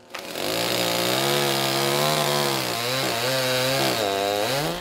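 Loud, close chainsaw cutting down a damaged linden tree on a city street, the engine whining steadily with rising and falling pitch as the blade bites into the wood, running continuously throughout.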